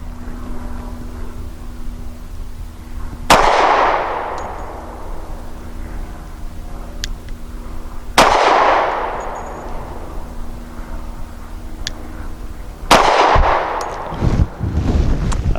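Three loud, sharp .45 pistol shots ring out from a Rock Island 3.1-inch double-stack handgun firing 230-grain rounds, spaced about five seconds apart, each with a long echoing decay at an outdoor range.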